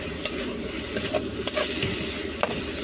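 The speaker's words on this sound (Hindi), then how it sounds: "भूजते इसको। अब इसमें हम टमाटर डालेंगे" Tomatoes sizzle steadily in a hot pan with oil while a spoon stirs them, giving intermittent scraping clicks over a continuous close frying hiss, with no talking.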